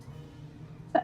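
A single short sneeze bursts out at the very end, loud against a low, steady room hum.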